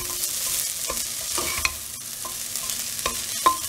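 Vegetables for chicken fried rice are stir-fried in a hot pan, giving a continuous close sizzle broken by repeated scraping and clacking of a spatula against the pan at an uneven rhythm.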